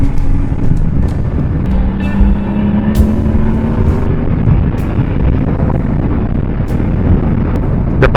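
A BMW R1150GS motorcycle engine drones steadily on a test ride, its rising and falling rumble mixed with rushing wind buffeting the microphone and a few sharp clicks, sustained and close with no talking.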